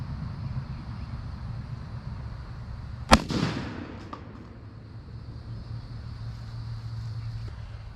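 A cheap homemade black powder cannon loaded with a reduced charge fires a tennis ball in a single sharp, loud bang that decays quickly over steady outdoor background noise.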